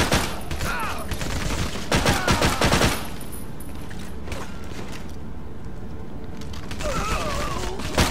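Bursts of gunfire and mechanical clatter in the PSP shooter Medal of Honor: Heroes 2 come in two short volleys separated by a quieter stretch of game ambience, with another flurry near the end.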